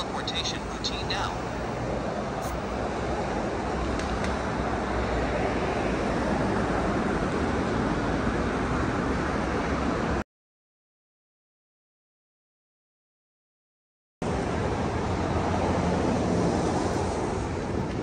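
Steady ocean surf washing onto a sunny beach, a dense, continuous roar with wind buffeting the microphone, broken by a few seconds of total silence before the waves resume.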